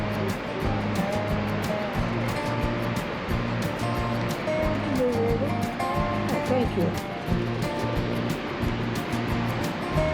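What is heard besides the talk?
river and waterfall flowing at Fall Creek Falls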